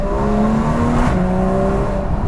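A Porsche 981 Cayman S engine with Fabspeed F1 headers revs loudly and close, climbing in pitch, dipping at a gear change, then climbing again with a raspy, throaty tone.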